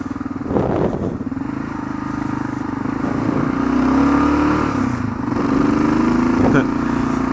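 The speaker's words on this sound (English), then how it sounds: "I pop a wheelie, but it is a KLR" A Kawasaki KLR motorcycle engine hums steadily and swells into a rising rev as the rider pulls a wheelie on a commute home, heard from the rider's position under strong wind rush and road noise.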